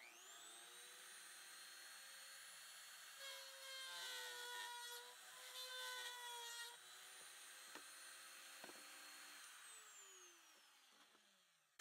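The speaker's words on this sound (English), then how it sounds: "I'm going to cut through a small piece of plexiglass here." A Dremel Moto-Tool mounted in a drill press bores a small hole through plexiglass, giving a steady high rotary whine that deepens into a louder grinding bite midway, then a few sharp clicks as the bit eases off and winds down.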